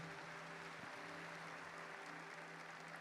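A congregation at Mass applauds, a steady, faint wash of clapping that stays even from start to finish with no voices over it.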